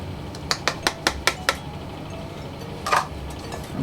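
A spoon stirs flour and baking powder into a Swedish havreflarn oat cookie mixture in a bowl, giving a quick run of about seven light, evenly spaced taps followed by a brief scrape, close and without talk.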